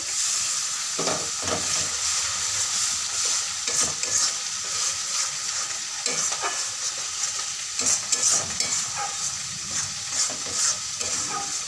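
Water is poured into a pan of spice paste fried with chilli powder, and it sizzles and crackles steadily and loudly, with stirring scrapes now and then throughout.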